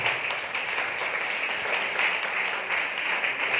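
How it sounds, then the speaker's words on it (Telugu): A church congregation at a Sunday service claps in praise, a dense, steady wash of many hands applauding together throughout. "నమ్మిన వారు చప్పట్లు దేవుని స్తుతిస్తారు."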